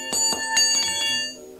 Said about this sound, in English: there's my favorite wrench being dropped.